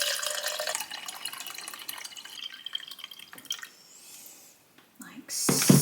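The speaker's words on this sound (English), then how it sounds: "Fill up the rest with some filtered water." Filtered water pours into a container over ginger for homemade ginger shots, a close, trickling and splashing stream that thins toward the end, followed by a brief louder clatter.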